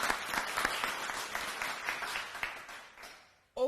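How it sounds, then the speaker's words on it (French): An audience at a Young African Leaders Day gathering applauds at moderate volume, the clapping slowly thinning out before a voice cuts in at the end. "je vous demanderai fièrement et hautement d'applaudir,"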